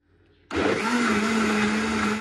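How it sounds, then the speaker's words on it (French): A blender switches on with a sharp start and runs as a loud, steady, whining roar, mixing papaya, flax seeds, chia seeds and dates into a smoothie. "Et maintenant, on va mixer tout ça."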